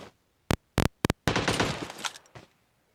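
Gunfire in the PUBG Mobile video game: a few sharp separate shots, then a loud crackling burst of rapid fire that trails away into silence, close and with no talking.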